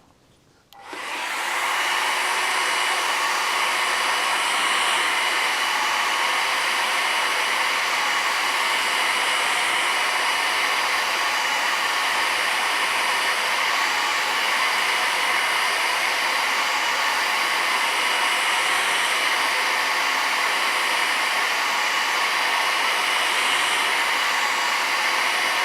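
A hair dryer blows steadily on wet watercolor paint, a loud continuous rushing whoosh that switches on at the start and runs unbroken for the rest, close by and alone.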